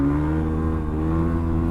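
A Yamaha WR250R motorcycle engine revs hard near 10,000 RPM in second gear during a wheelie, a loud steady high-pitched drone with strong harmonics held throughout, no voices.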